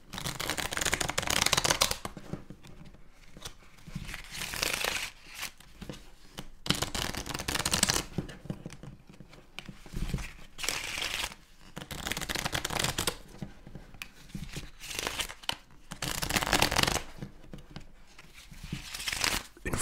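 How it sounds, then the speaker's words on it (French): Skip-Bo playing cards are shuffled up close in repeated riffling bursts with brief pauses between them, crisp and papery, no voices. "on doit commencer par mélanger toutes les cartes"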